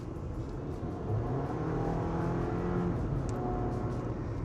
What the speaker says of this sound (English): And when you step on it, it just sounds kind of bland and drony.